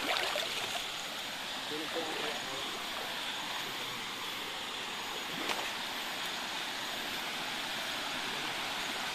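Slippers are rinsed in a flowing stream on a farm lot in Plaridel, Quezon, with a steady broad rush of running water throughout and a voice speaking faintly beneath it.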